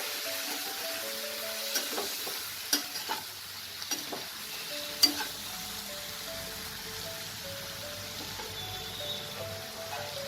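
Ground spices with a little water are stirred in a pan for a tangra fish curry with potatoes, giving a soft, steady simmering hiss broken by a few light scrapes and clicks.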